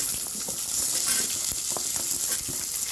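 Onions with ginger, garlic and cashews sautéing in a pan for rajma masala curry, a loud, continuous bright sizzle close up with scattered stirring scrapes and clicks.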